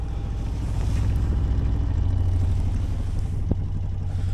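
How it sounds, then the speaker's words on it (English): A sailboat's engine idling as it warms up, a steady, loud low rumble with a constant drone throughout and a faint knock near the end, no voices. "Let the engine warm up for a good 20 minutes"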